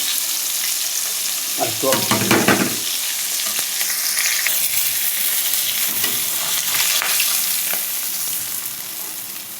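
Pieces of fish fry in hot oil for a fish and taro curry, with a dense, continuous sizzle and bursts of scraping and stirring near the pan. A brief voice speaks once.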